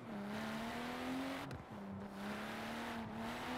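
BMW M2 Coupe engine in Forza Horizon 4 revs up with a rising tone, drops sharply at a gear change, then climbs again, with a second brief shift near the end; close, steady and without talk.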